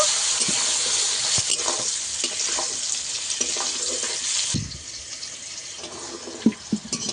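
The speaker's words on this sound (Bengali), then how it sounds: "সবকিছু একসঙ্গে আবার ভালো করে ভেজে নেব।" Hilsa fish fried rice is stir-fried in a pan, a steady sizzle broken by scraping spatula strokes and clatter, easing slightly softer in the second half with a few sharper knocks.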